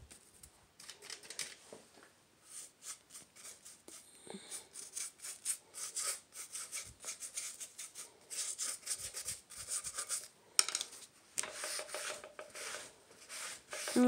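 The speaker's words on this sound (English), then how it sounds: "I'm just kind of randomly scrubbing it in on places." A brush scrubbing acrylic paint onto a wooden pirate treasure chest for an aged look, a steady series of short dry rubbing strokes at close range, irregular in rhythm and moderately quiet.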